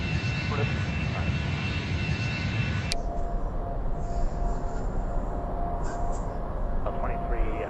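Airbus A340 jet engines at takeoff thrust in the flight simulator game Airline Commander, a steady loud roar that drops to a lower rumble partway through, with faint chimes and voices in the background.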